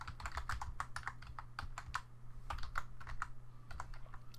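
Quick, fairly soft keystrokes on a computer keyboard, typed in short irregular bursts with brief pauses over a low steady hum, no voices.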